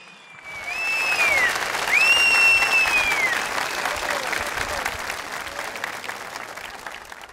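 A large crowd at a political rally in Ankara breaks into strong, sustained applause for health workers, loud and dense throughout, with a few high whistles cutting through early on.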